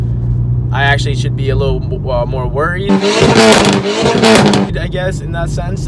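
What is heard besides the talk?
VW MK6 GTI straight-piped exhaust with stratified pop and bang tune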